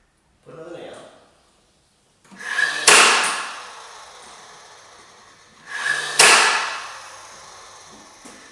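Two sharp, loud nail-gun style impacts into an interior door frame during installation, each with a brief hiss before and a fading ring after, close by, following a short earlier noise.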